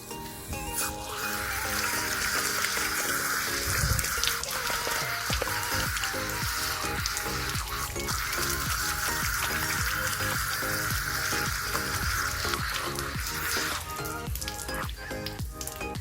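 Running water pours steadily over a surface while permanent marker ink is scrubbed off, a continuous broad splashing hiss that stays close and even for the whole stretch, with no voices.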